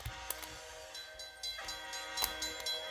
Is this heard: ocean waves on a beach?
no